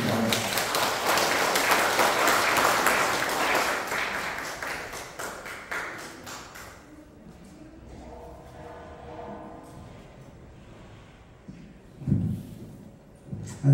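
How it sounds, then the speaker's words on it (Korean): An audience at a community welfare council training session claps in a dense burst for several seconds, then the applause fades into quieter room noise with a few scattered thumps and brief sounds of movement. "자, 박수 좀 부탁드립니다."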